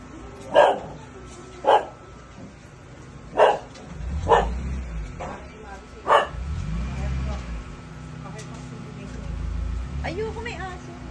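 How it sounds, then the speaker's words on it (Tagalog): A dog barks several times, sharp and fairly close, in spaced-out yaps, with low rumbling and a voice or two murmuring in between. "Ayoko, may aso."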